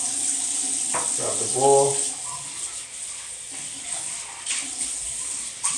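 A bathroom tap runs steadily at close range, a broad continuous water hiss with someone speaking briefly over it early on.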